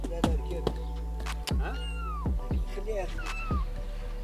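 A cat meows repeatedly in drawn-out, wavering calls, about four or five of them spaced over several seconds, loud and near, with other sounds between the calls.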